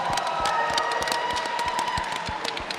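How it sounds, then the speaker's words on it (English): A crowd at the close of a timed puzzle competition round cheers and claps, a dense steady wash of applause with scattered sharp claps and whoops filling the room throughout. "I think everyone's cheering to be finished."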